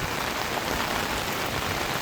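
Very heavy thunderstorm rain in the Philippines pours down in a dense, steady hiss of drops striking surfaces, loud and unbroken with no voices.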